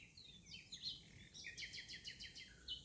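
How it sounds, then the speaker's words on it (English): Birds chirp and tweet in a forest at dawn, short bright calls repeating in quick bursts, soft and fairly distant over a faint, quiet background. "Bird song stitches the edges of silence."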